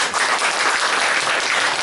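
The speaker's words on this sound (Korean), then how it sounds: "여러분들 박수 한번 쳐주세요." An audience at a book concert in a Gumi bookstore breaks into thick, sustained clapping that stays loud and even from start to finish.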